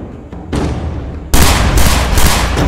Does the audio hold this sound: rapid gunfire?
yes